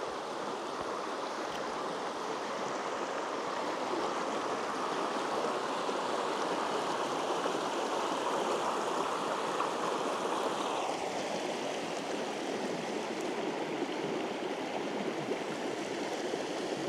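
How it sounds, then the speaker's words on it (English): A clear river runs beside a creekside campsite off a main road, a steady broadband rush of flowing water that stays close and even throughout with no voices. "this one is right by a river here too. So at least we'll be able to hear this tonight."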